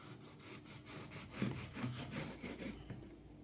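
A bread knife saws through a loaf, cutting inch-thick slices with soft rhythmic rasping strokes, quiet and close, with no voices.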